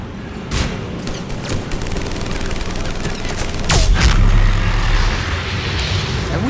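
Grenade blasts in the shooter video game Mass Effect 3 multiplayer: sharp booming bursts, one early and a heavier one midway, over a continuous rumble of gunfire and battle noise, with no voices.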